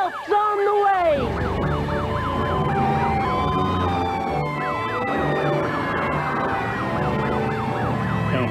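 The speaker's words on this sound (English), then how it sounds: "The sirens say, help's on the way!" Fire engine sirens wail loudly and close, several overlapping rising-and-falling tones sounding continuously from start to end with a deep engine rumble beneath.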